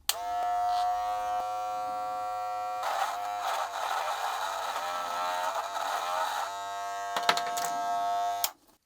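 A Wahl Black Magic Clip hair clipper hums with a steady electric buzz, its pitch dipping and straining as the blades push through a brush, then the motor switches off.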